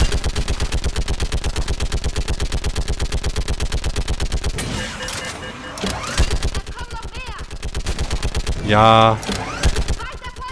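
Mass Effect 3 combat with a mounted gun turret firing a long, steady rapid-fire stream, then broken bursts and explosions, loud and close, with a brief spoken word.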